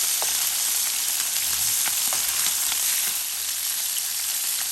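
Halibut fillets sear in a hot pan with a loud, steady, close sizzle that holds evenly throughout, no voices.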